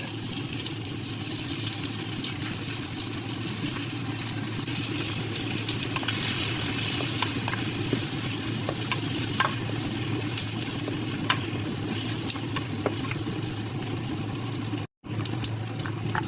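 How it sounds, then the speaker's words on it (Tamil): Chopped onions sautéing with cumin in a pan produce a steady, close, unbroken sizzle with faint stirring scrapes, cut briefly by a short silence near the end. "இப்போ அடுத்ததாக நாங்கள் வெட்டி வச்ச வெங்காயத்தை சேர்ப்போம்"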